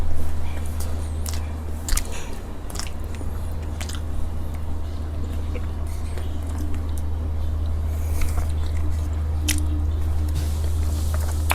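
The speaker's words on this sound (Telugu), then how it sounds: "సో బనానా మామూలుగా తినేద్దాం." Someone eats banana from a mango smoothie bowl: soft, wet squishing bites and chewing clicks come at irregular intervals, close to the microphone, over a constant low hum.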